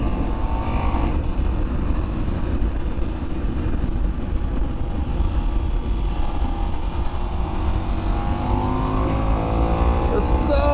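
A KTM 1390 Super Duke R accelerates hard on a race track, its engine a loud, continuous roar with rising pitch sweeps as it climbs through the revs, with wind rush throughout and no speech.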